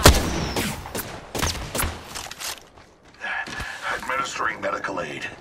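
Bursts of gunfire crack and thud in Apex Legends, sharp repeated shots in the first half, then scattered hits and game sounds as a voice speaks over the action.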